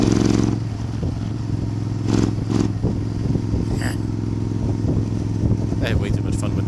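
A Suzuki Intruder 1400 motorcycle engine on an old road, steady close engine drone with a brief revving surge and a few clattering knocks, heard under wind and light talk.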